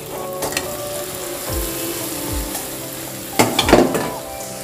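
Taro stolons hit hot oil in a pan while prawn and dried shrimp are being cooked, giving a steady sizzle with a few louder scraping stirs near the end.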